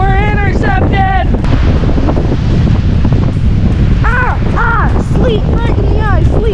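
Strong 50-60 mph blizzard wind roars across the summit of Mount Si, a loud, continuous buffeting rush hitting the microphone, with excited voices shouting over it throughout.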